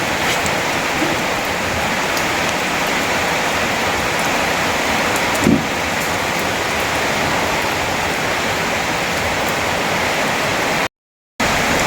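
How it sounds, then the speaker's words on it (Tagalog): Dense, loud downpour of heavy rain hissing steadily throughout, with a brief thump midway and a short dropout near the end. "Lakas naman ang ulan."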